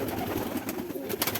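Pigeons in a loft give soft, low cooing, a brief close murmur of overlapping coos with light background noise.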